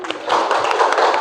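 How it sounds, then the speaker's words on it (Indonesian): Children in a classroom clap their hands together, a short burst of brisk, overlapping claps that swells after a brief quieter start and stays close and loud. "Oke, tepuk tangan."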